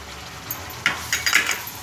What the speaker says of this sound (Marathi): हे चांगली साखर मिक्स करून घ्यायची आहे।